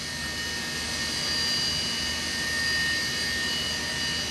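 A small E-flite Blade mSR RC helicopter hovers and holds its position, its steady high-pitched rotor and motor whine continuing evenly and close throughout, with no talking.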